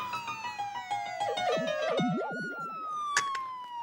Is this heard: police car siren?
yes